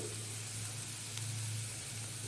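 Masala sizzling as it is sautéed in a pan to cook off the raw smell for an egg masala burger filling: a steady, even frying hiss with a low background hum and no talking.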